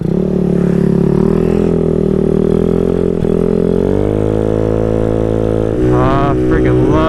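A GY6-engined Honda Ruckus scooter drones steadily at high speed, its engine note holding and slowly rising, then dipping and wavering near the end, with a voice speaking over the ride.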